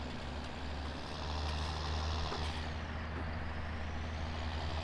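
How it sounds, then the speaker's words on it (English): A truck with a straight-pipe exhaust in Farming Simulator 19 cruises along, its deep, steady exhaust rumble droning loud and close throughout with no talk. "I do love the rumble of this straight pipe though"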